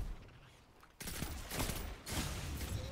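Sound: gunfire in the video game Destiny, Trials

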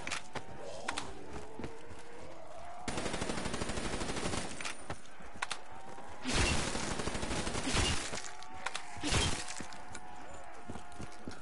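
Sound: gunfire and headshot sound in Shadows of Evil video game

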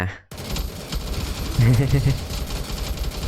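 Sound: gunfire in Roblox The Resistance Tycoon video game

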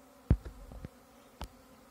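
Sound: honeybee swarm buzzing

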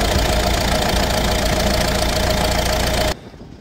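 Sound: Fiat Talento van engine running with a boost leak

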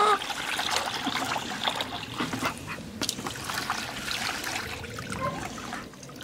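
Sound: pouring clean water onto cabbage seedlings

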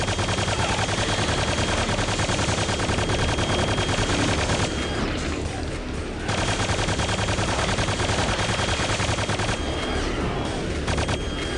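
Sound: chaingun firing in the video game Quake 2

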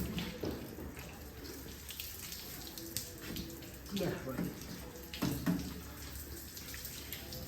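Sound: washing a tractor with water

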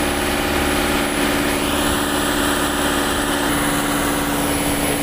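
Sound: patrol boat engine

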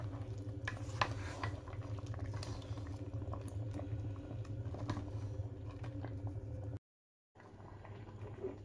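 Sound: okra sauce simmering in a pot

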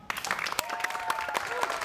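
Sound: applause

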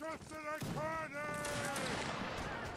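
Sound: musket volley fire in Napoleonic Wars video game line battle

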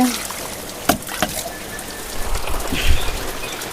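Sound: heavy rain

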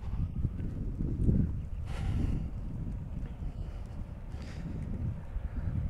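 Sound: sea wind blowing

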